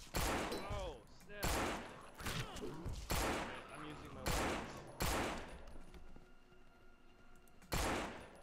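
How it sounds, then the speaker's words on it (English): Pistol shots in the zombie survival game No More Room in Hell, about eight sharp, separate cracks fired at uneven intervals, close and punchy, with players talking in between. "I'm putting out my pistol."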